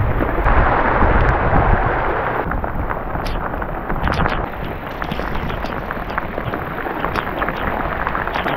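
Heavy thunderstorm rolling over a carp-fishing spot, with dense downpour and low rumbling thunder filling the whole stretch, loud and continuous, with no voices.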